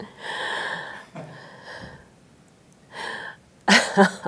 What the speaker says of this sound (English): Oh, that was a very echoey sneeze.